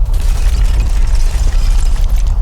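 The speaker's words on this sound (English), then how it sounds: "The ceiling is cracking." A loud, sustained cracking and rumbling roar sounds like a ceiling breaking apart and collapsing, dense and heavy throughout with deep low-end weight and scattered debris crackle.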